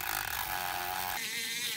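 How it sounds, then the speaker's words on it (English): Light sanding of corrosion off a wheel knuckle during a stuck wheel bearing job produces a steady, loud broadband grinding hiss that thins out abruptly partway through. "Again, very lightly sanding."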